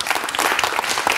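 A television talk-show audience bursts into dense, loud, continuous applause for a pop singer, sustained throughout without pause.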